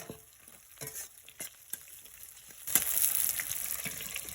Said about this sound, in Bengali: এই তেলে আমি দিয়ে দিচ্ছি রসুন কুচি আর পেঁয়াজ কুচি